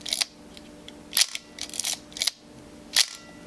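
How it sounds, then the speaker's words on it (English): Several sharp, close mechanical clicks from a film camera's shutter button and controls, spaced irregularly over a few seconds with quiet room tone between them. "To take a picture, you're using this button right here,"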